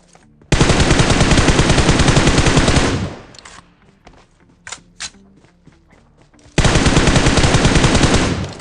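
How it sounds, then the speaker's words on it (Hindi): Sustained automatic gunfire in PUBG Mobile, two long loud bursts of rapid shots separated by a quieter stretch of scattered single cracks and clicks, with no talking. "यहाँ की तरफ से जो गन चली थी"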